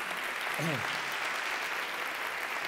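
A church congregation applauding, a broad even patter of clapping throughout, moderately faint, with a short spoken or sung vocal phrase near the start.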